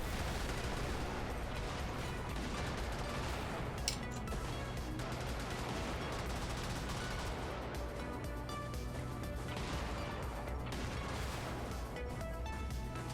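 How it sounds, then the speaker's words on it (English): Repeated blasts from a long-range shotgun-style weapon in the mech combat game Brigador, a dense, loud barrage of booming shots and impacts layered over a continuous rumbling battle mix. "It's like a long-range shotgun"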